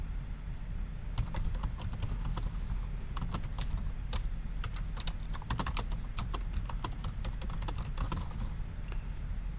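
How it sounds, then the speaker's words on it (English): Steady clicking of keys on a Microsoft Wired 600 keyboard, close and continuous for nearly ten seconds over a low background hum. "just open Notepad so I can type freely"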